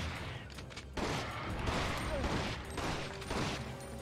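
Rapid bursts of gunfire in the survival horror game Resident Evil Outbreak on PS2, dense repeated shots over a noisy game soundscape with a loud ongoing clatter of effects.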